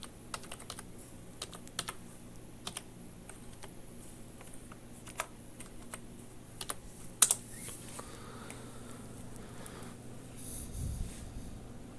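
Keys on a computer keyboard are tapped in scattered bursts as a password is typed, quiet and close, with irregular pauses between clusters of clicks and no talking.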